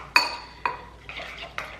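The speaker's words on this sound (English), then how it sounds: "I'm gonna add a little bit of that and stir it all in" A spoon stirs cinnamon and toffee drops in a bowl, sounding as four sharp clinks and scrapes against the bowl in quick succession, close and clear, with no talking.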